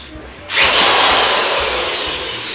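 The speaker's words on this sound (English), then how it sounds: "power drill" A handheld power drill spins up abruptly after a brief pause and holds a loud, bright, steady whine close by, easing slightly toward the end.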